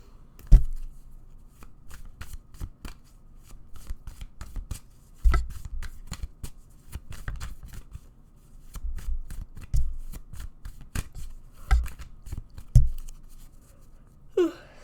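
A deck of tarot cards shuffled repeatedly by hand during a reading, with soft riffling and tapping bursts in an irregular rhythm, close and fairly quiet, no speech.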